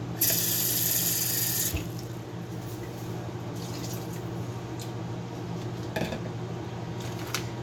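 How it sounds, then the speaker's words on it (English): Tap water runs into a sink while being added to a taco fries mix, a steady broadband rush that is loudest for the first couple of seconds, then settles into a softer flow with scattered drips and light clinks. "you can keep adding water until it looks perfectly"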